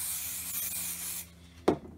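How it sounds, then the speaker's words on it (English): A steady hiss of spray adhesive lasts about a second, then cuts off, followed by a single sharp tap. "I would use the spray"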